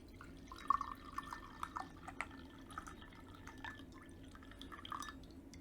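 Brewed tea being poured from a vessel: a light, trickling splash of liquid with small drips and glassy clinks, soft and close, with no talk.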